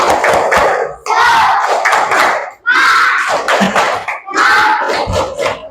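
A primary school class performs a rhythmic clapping chant together, loud group voices shouting in unison with bursts of hand claps in short repeated phrases.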